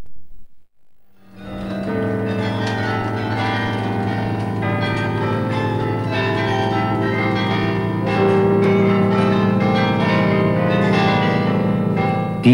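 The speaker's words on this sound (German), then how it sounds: "Die 47 großen und kleinen Glocken können auch von einem Glockenspieler per Hand bespielt werden" A carillon of 47 large and small bells rings out in a Flemish town, a loud, sustained cascade of overlapping tones that starts after a short silence and continues throughout.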